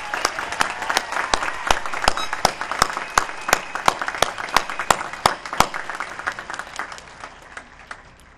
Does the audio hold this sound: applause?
yes